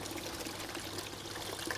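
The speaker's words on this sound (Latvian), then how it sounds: "Strūklaka, tas ir sarežģīti, jo reti kuram latvietim dārzā ir strūklaka" A garden fountain trickles among green plants and stones, a steady close wash of splashing water running evenly with no voices.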